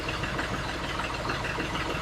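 A farm tractor's engine idles steadily with a low, even rumble that holds constant throughout, with no talk over it.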